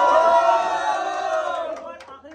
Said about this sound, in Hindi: एक बार आखिरी में चिल्ला दो